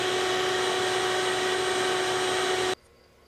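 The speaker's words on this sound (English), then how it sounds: "I'm going to be cutting these down at 30 degrees on the miter saw" A miter saw runs loud and steady, a continuous whining motor roar cutting PVC at a 30-degree angle, then stops abruptly near the end, leaving a quiet room.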